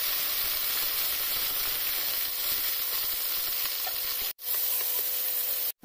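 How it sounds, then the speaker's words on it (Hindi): Curry leaves, green chillies and onion dropped into hot oil in a kadhai, giving a loud, continuous, close crackling sizzle that breaks off twice near the end. "तेल गर्म होने के बाद हम कड़ी पत्ती, मिर्ची, प्याज को डाल देंगे और भून लेंगे।"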